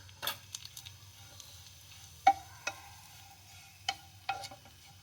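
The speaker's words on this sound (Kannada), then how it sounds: "ಕೊಬ್ಬರಿ ಹುರ್ಕೊಳ್ಳೋಣ. ಇವಾಗ ಎಣ್ಣೆ ಹಾಕ್ತಾಯಿದ್ದೀನಿ." Dry coconut roasts in a little oil for curry leaf chutney powder, a faint, sparse sizzle broken by a few sharp clicks and stirring knocks, quiet and close with no talk.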